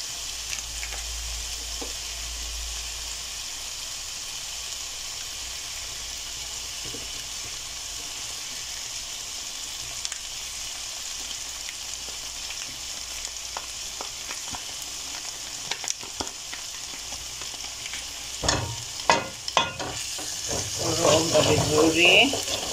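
Meatball sauce sizzles steadily in a pan right after a heaped tablespoon of tomato paste goes in, a constant close hiss with a few clicks and stirring sounds, growing louder and busier toward the end, where a voice briefly speaks.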